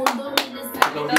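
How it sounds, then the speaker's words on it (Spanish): Four separate, sharp hand claps sound close by at an uneven pace during a rap interview show, with a voice murmuring between them. "Un aplauso para Sabi."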